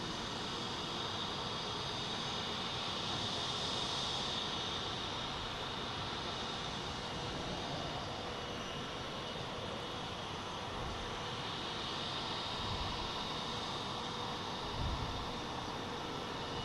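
A Turkish Airlines Airbus A350-900 from Istanbul at Boston Logan gives a steady, loud broadband jet roar that swells slightly around the middle and again near the end, with no voices.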